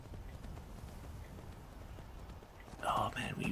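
Horse hooves clip-clop in Skyrim, faint and steady at a slow gait on a mountain path, under a quiet background, with a brief louder burst near the end.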